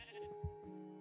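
A single short sheep bleat sounds close by, quiet and nasal, from a Minecraft sheep.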